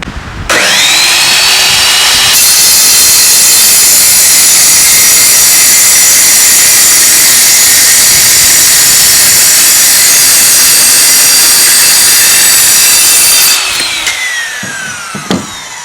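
Evolution Rage saw cutting through brick: a loud, steady high-pitched whine with an abrasive grinding edge that holds for about eleven seconds, then winds down as the blade spins to a stop.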